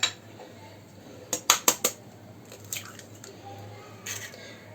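Eggs and sugar being mixed for French-style madeleines give a few sharp utensil clinks against a bowl, clustered in the middle, with soft scraping between them in a quiet kitchen.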